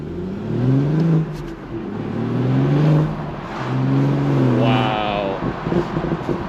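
A manual BMW 440i exhaust with a downpipe burbles and pops over a low, steady engine drone, a few uneven crackling bursts close by, with a faint rising whine.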